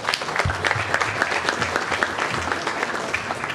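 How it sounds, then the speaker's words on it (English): An audience at a Board of Education meeting applauds, a dense burst of close, continuous clapping with a faint voice or two underneath. "Oh, well, you start clapping"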